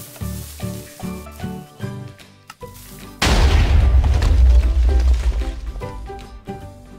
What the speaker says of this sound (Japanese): TNT が飛んで穴が開きます